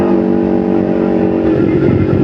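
A motorcycle engine running on Shell Advance AX7 oil revs loud and close, a strong harmonic engine drone that holds steady and then shifts pitch as the throttle changes.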